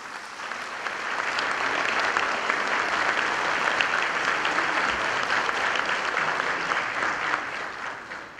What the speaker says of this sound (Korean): 여러분 큰 박수 한번 보내주시기 바랍니다